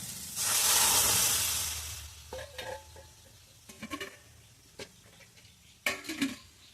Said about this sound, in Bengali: এবার এর মধ্যে আমি ডালটা ঢেলে দেবো আর বেশি না নাড়াচাড়া করবো না